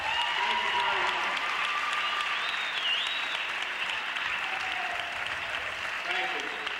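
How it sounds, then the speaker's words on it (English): Crowd applause in a high school gym on senior night at a boys basketball game, a sustained, even roar of clapping from the stands with some voices mixed in, continuing steadily throughout. "let's have one big round of applause for the senior cheerleaders and basketball players"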